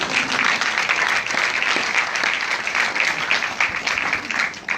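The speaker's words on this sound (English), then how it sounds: "A round of applause one more time for Mommy." An audience gives Mommy another round of applause at a sickle cell awareness event, with full, sustained clapping that stays dense from start to finish.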